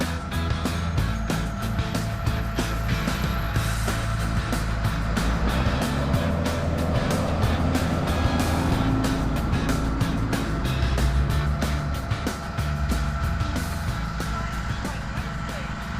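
A truck rumbling by on a nearby road, a loud, low engine drone with broadband road noise that holds steady throughout, with faint voices in the background.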